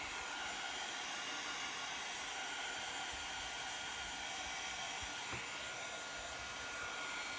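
A hair dryer blows steadily and loudly to dry freshly applied black paint, a continuous broadband whoosh held at even strength throughout with no talking.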